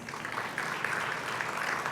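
An awards ceremony audience claps together in a short burst of steady applause. The clapping is dense and continuous for about two seconds.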